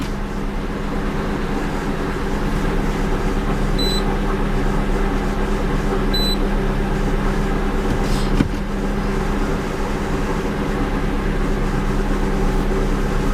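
Mazda 626 engine held at a steady 2000 RPM during a transmission diagnostic test, a constant close hum with no talk and a couple of faint electronic beeps.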